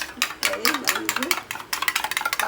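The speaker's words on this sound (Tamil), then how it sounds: "அடித்து கலக்கி இதில் ஊற்றி கலந்து விடவும்." A ginger milk porridge mixture is beaten and stirred briskly in a vessel, quick rhythmic scraping and swishing strokes close by, with a few brief pauses.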